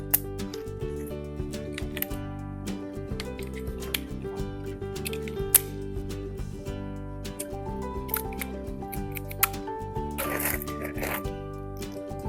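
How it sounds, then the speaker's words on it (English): Batteries are pulled from plastic packaging and pushed into a battery box: crinkling plastic, light clicks and small snaps of handling, close up and intermittent, with no speech. "You can remove these from the plastic and insert them in the battery box."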